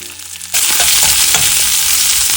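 Half a small onion dropped into hot oil for sweet potato curry, the oil sizzling suddenly and loudly after a quiet half-second, then a steady dense frying hiss with faint stirring, close up and alone.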